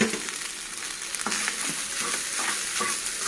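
Cooked rice being stirred into fried seasoning in a hot pan for carrot egg methi rice, with a steady close sizzle and scraping stir strokes throughout, no voices.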